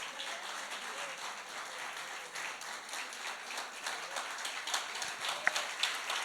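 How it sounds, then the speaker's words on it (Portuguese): Congregation applause during a Portuguese-language church service, a steady dense wash of many hands clapping at moderate distance, continuing evenly for several seconds with a few sharper claps near the end. "Aplauda o Senhor nessa manhã"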